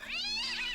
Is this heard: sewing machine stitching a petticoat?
no